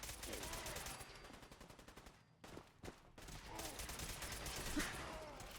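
Gunfire in the video game Fallout 4 against robots and super mutants, rapid automatic bursts in quick rhythmic succession, loud and close, with a short pause of a few isolated shots midway before firing resumes.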